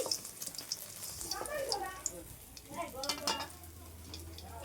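Katla fish fried red in hot oil sizzles in the pan as pieces are lifted out, a close crackling fry with spatula scrapes, under the voices of people talking nearby.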